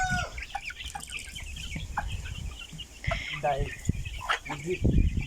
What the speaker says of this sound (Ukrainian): Бачите, які ручні кури ростуть.